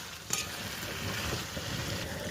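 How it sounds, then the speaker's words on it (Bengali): Meat sizzles with spices in a hot karahi while being stir-fried. A steady crackling hiss runs throughout, with a sharp metallic clink near the start and no talking. "ওটা এবার মাংসটা এর সাথে মশলাগুলোর সাথে ভালো করে কষিয়ে নেব"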